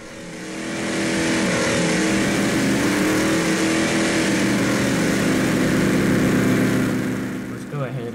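Land Crusher BC truck engine in Spintires, a steady loud drone that rises in the first second, holds through the clip and fades at the end, with faint speech mixed in.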